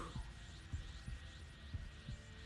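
Heartbeat effect from the video game Dragon Ball The Breakers, a soft, muffled double thump repeating at a steady quick rhythm over a low background hum.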